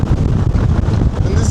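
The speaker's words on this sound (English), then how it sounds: "I know when you see winds like this, this is not the place to be" Strong wind roars across open water on Georgian Bay around a Sea-Doo Switch, buffeting the microphone in a steady, loud, broadband rush with constant gusting.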